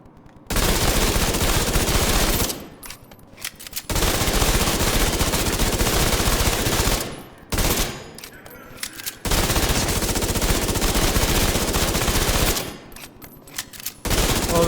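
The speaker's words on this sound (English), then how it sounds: "So Tommy gun gets selected to go first. See how it does here in the time to kill." Tommy gun from the Division 2 firing in long sustained automatic bursts, loud and close, separated by brief pauses.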